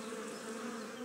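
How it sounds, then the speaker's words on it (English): Swarm of bees buzzing steadily and loudly around a steam engine, a dense continuous drone with no gaps and no voices. "But the bees weren't listening to Thomas. They were too busy buzzing."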